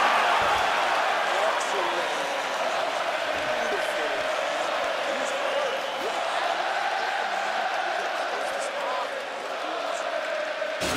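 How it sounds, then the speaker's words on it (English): Arena crowd after a round in the UFC 4 fighting video game: a broad, sustained cheer and applause wash, steady and fairly loud, with scattered impacts and voices mixed in. "So the crowd voicing its appreciation after that round."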